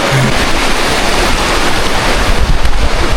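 Steady broadband rush of a river flowing over rocks at Thirunelli in Wayanad, continuous and fairly loud throughout, with wind buffeting the microphone and no voices.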